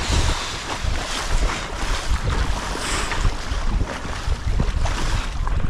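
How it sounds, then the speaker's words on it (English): Big choppy waves on the River Thames slap and churn around a small boat, with heavy wind rumble across the microphone, loud and continuous. "Those are some big waves."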